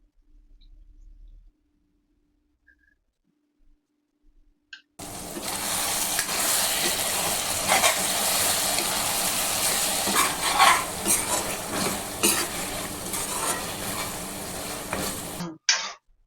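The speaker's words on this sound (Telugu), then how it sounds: "అల్లం వెల్లుల్లి పేస్ట్ పచ్చివాసన పోయేంత వరకు బాగా వేపుకోవాలండి" After about five seconds of near silence, three tablespoons of ginger garlic paste hit hot oil in a pan for mushroom curry, giving a loud, steady, close sizzle with occasional stirring scrapes, then an abrupt stop.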